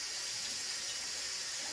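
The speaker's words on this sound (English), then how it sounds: "No, that's all the bubbles going down." Soapy water and bubbles drain down a household sink, a steady, close gurgling rush of water with no talking.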